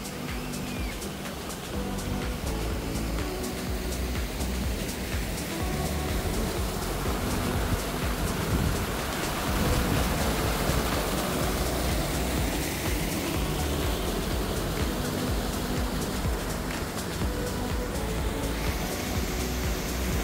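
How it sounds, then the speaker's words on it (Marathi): Waterfalls at Pavnar in Wardha make a continuous, dense rushing roar of falling water, steady and fairly loud from start to finish, with no voices. "इथून दिसणारे विविध धबधबे आता आपण बघत आहात।"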